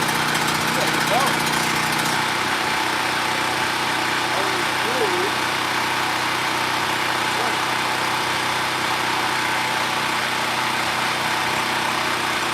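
A petrol generator with a fuel leak running steadily after starting, loud and close with a constant engine drone throughout and speech faintly over it.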